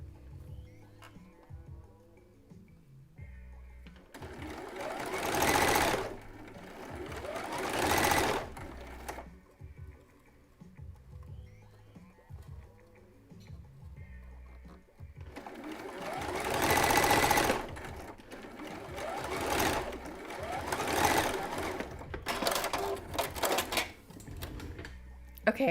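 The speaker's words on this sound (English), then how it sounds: "just using a straight stitch to add top stitching, which reinforces the seam" A sewing machine runs a straight stitch, topstitching to reinforce a bralette seam. The close mechanical stitching comes in several runs of varying length with short pauses between them.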